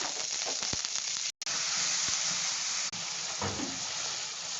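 Black-eyed pea vada batter fries in hot oil with a steady, dense sizzle and hiss, broken by a brief gap, and no voices.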